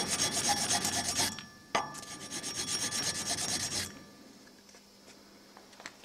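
Folding-knife blade sanded by hand with 320-grit sandpaper under a file, two close rasping passes of steady back-and-forth rubbing, then quiet with faint handling taps.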